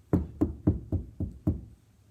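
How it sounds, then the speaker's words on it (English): A door is knocked on six times in an even, steady rhythm, each knock a dull, close thud fading quickly, with no talk over it. "She knocked."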